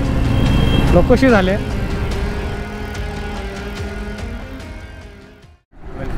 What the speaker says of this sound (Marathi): बनारसमध्ये शिरल्याच आपल्याला मुंबईसारखी ट्रॅफिक